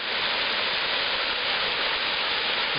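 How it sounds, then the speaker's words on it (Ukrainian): A village waterfall pours down a rocky drop in two channels between overhanging cliffs, making a steady, loud, full rushing roar that holds unchanged throughout with no voices. "Ми з вами підійшли до третього водоспаду."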